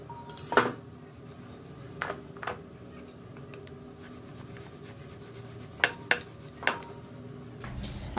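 Coriander leaf paratha dough made with atta being rolled out round on a board, a soft steady rubbing with a few scattered light knocks and clinks of utensils, fairly quiet and without talk.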